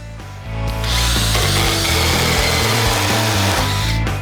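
Power saw cutting through dry birch wood, starting up after half a second and then running loud and steady under load for several seconds before easing off at the end.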